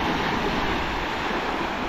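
Sea waves hitting a rocky, shallow shore in Dilasag, Aurora give a steady, full wash of surf noise, continuous and fairly loud, with no voices.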